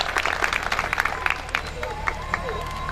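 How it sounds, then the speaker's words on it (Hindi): Audience applause at an outdoor mushaira poetry gathering in Patiyali, scattered claps and crowd noise with voices murmuring underneath, the clapping thinning toward the end. "एक बार जोरदार तालियां और उनका बहुत बहुत स्वागत"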